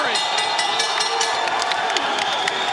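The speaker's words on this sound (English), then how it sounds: "and the crowd is roaring." Boxing crowd at a bout in Brooklyn roaring through the final seconds of a ten-round fight, a loud continuous wall of cheering with bursts of clapping and shouts throughout.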